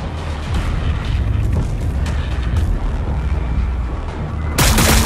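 Dense, continuous gunfire and booming battle noise from the Warhammer 40,000: Battlesector video game roll on without a break, loud and layered, ending in a sharp bright burst.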